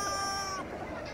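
A lucky chicken toy, pressed, gives a short squawking cluck with a bright electronic tone for about half a second, followed by quiet background murmur.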